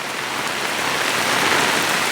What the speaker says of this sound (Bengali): আমার ছাতার মধ্যে এভাবে বৃষ্টির স্রোত